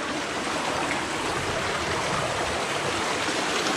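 Muddy, ash-laden water flows through El Huaponal canyon in Rayones, Nuevo León, after mountain wildfires. The stream makes a constant rushing wash with no other sounds over it.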